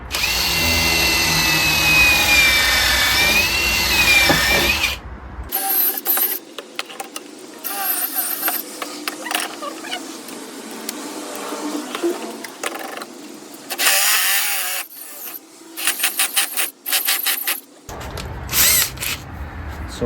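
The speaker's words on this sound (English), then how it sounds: "Drill it through." Power drill boring holes through wood on a workbench, loud and sustained at first, then a series of shorter bursts with pauses in between, close up.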